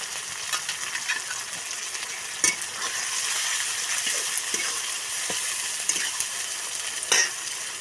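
Ginger, cumin and coriander spice paste fries in a pan for a soybean curry, a steady broadband sizzle with occasional stirring scrapes and clicks, close and continuous with no voices.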